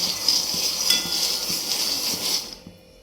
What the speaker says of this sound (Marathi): आता शेंगदाणे भाजा ठेवलेत शेंगदाणे भाजून घेते